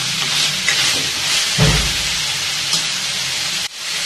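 Ingredients with coriander, mint and rock salt sauté in a pan for gram dal gravy, giving a steady broadband sizzle throughout with a brief louder burst from stirring partway through, close and without talk.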